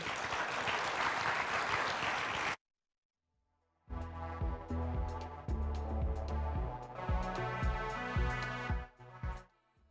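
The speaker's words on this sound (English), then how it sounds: "And let's give them all a round of applause." A conference audience applauds a panel at a Menus of Change 2024 session with a dense burst of clapping for a couple of seconds. It stops into silence, then rhythmic music with a steady beat begins.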